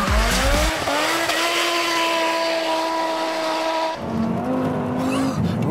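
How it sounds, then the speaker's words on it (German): A loud modified car with a heavily reworked engine drifting sideways, its engine holding a steady high roar while the spinning rear tires squeal continuously, the pitch shifting near the end. "Die Hinterräder drehen durch."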